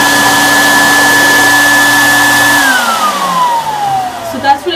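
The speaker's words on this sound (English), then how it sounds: "So I'll turn it on so you can hear what the soft dryer sounds like." A soft dog grooming dryer runs on its low setting with a steady, loud whir and a clear tonal whine, then spins down as the pitch drops, leaving faint rustling at the end.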